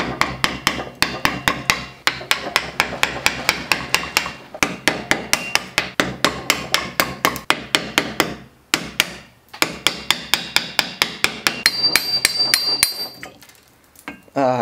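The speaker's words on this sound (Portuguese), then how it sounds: "E agora é só dar umas cacetadas aqui com essa cunha, esse martelinho, que aí essa parte toda vai saindo." A small hammer repeatedly strikes a metal wedge to dismantle an old, rusty axe, sharp close taps in quick rhythmic bursts with brief pauses between runs.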